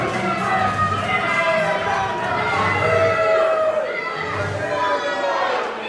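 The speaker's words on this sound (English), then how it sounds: "More boos than cheers, to be correct." Wrestling arena crowd at a 3XWrestling TV show, a sustained roar of voices with booing mixed into steady crowd noise, fairly loud and continuous throughout.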